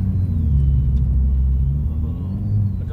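A modified Honda Civic's engine rumbles low and steady from inside the cabin while accelerating, a deep continuous drone with slight swells, no speech.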